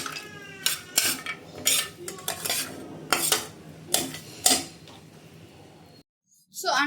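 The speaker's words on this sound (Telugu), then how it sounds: "సో మనకి ఇక్కడ కొబ్బరి వేగుతుంది కదా" Grated coconut roasting in a pan while a metal spoon scrapes and clinks against it in repeated stirring strokes, close and fairly quiet, ending in a brief silence.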